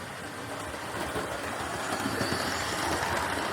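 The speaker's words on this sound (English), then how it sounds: "You see the actual station itself and see some of the details on that station just while the train is actually going" A Dapol Hinton Manor model train rumbles through a station with a continuous rolling clatter and faint wheel noise, steady and fairly close.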